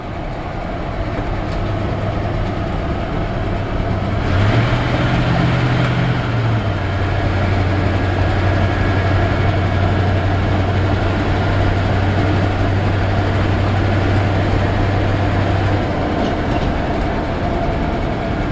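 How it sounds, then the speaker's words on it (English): A 1975 Chevrolet K-10 truck cruises steadily down the road, its low engine drone and road rumble continuous and fairly loud throughout, with a brief rise in pitch partway through. "Drives super straight down the road, nice and easy."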